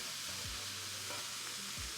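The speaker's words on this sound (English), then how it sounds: "And to the pan, I'm going to add a tablespoon of butter." A tablespoon of butter sizzles in a pan with a steady close hiss, broken by a couple of brief scraping stirs.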